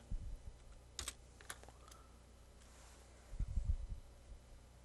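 Keys clack on a computer keyboard in quiet bursts, a few soft taps and then a quicker cluster of keystrokes near the end, close by with low room hum behind.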